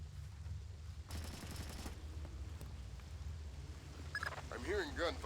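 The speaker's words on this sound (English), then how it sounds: "I'm hearing gunfire down there, Fisher." Gunfire in the stealth game Splinter Cell: Chaos Theory, a faint distant burst of rapid shots under a low rumbling ambience, followed by a brief electronic warbling tone near the end.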